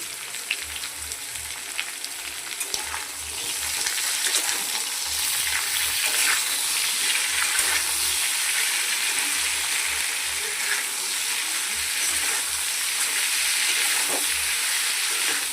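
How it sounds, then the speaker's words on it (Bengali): Potato, pointed gourd, papaya and tomato fry in a pan for a rohu fish curry, giving a steady, close, continuous sizzle with a soft bubbling crackle that swells slightly partway through; no one speaks. "সবজিটা আমার ভাজা হয়ে গেছে, আর একটুখানি ভাজা হলে আমি মশলাটা দিয়ে দেবো।"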